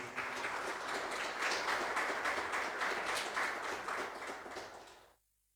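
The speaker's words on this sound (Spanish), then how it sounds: "Dale un fuerte aplauso a Jesús" A church congregation bursts into loud, sustained applause for Jesus, dense clapping holding steady before cutting off abruptly near the end.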